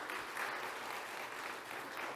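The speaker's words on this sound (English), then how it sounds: "Can we give Isaiah a round of applause?" A steady round of applause from an audience, continuous clapping filling the short stretch evenly at moderate distance with no voices on top.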